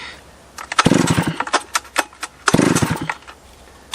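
A Stihl 056 chainsaw engine being pull-started off choke: two long bursts of rough engine noise, each lasting about half a second, with short sharp pulls and rattles between them, near and loud.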